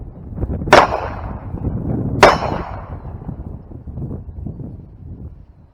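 Two sharp gunshots from a Taurus G2C 9mm pistol fed Tula steel-case ammunition through a 20-round Mec-Gar P226 magazine, spaced about a second and a half apart outdoors over steady wind rumble.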